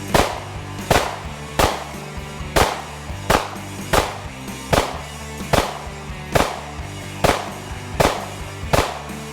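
Springfield Hellcat 9mm subcompact pistol firing ten evenly spaced, sharp, loud shots about one second apart at close range, each crack followed by a short ringing decay, with no talking.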